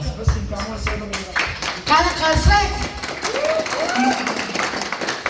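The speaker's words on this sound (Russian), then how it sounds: "Это все аплодисменты для вас" An audience at a diploma and medal presentation for a singer applauds in a steady crackling wash, with cheering and voices rising over the clapping at moments and someone speaking through it.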